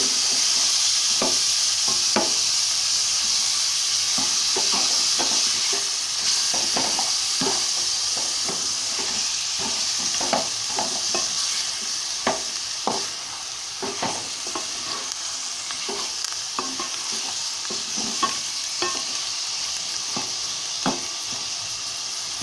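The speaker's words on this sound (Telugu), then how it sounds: "కాస్త వేయించుకోవాలండి." Mutton with tender tamarind leaves fries in a pan, a steady loud sizzle and hiss running throughout with frequent sharp scraping stirs of a utensil against the metal.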